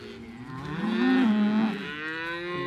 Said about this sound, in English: All the cows right